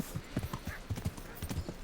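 Horse hooves clip-clopping in the medieval action role-playing game Kingdom Come: Deliverance, a steady rhythmic series of close, distinct hoof strikes at a walking or trotting pace, with no talking.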